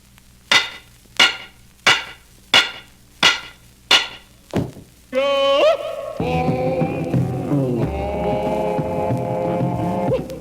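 Seven evenly spaced hammer strikes ring out loudly in a comedy stage act, then an extra hit before a sustained musical tone and a rich chord take over.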